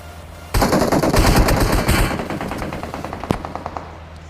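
Automatic gunfire in the mobile battle royale game BGMI: a loud, sustained burst of rapid shots that gradually thins into scattered, fainter rounds, with one sharp single shot near the end.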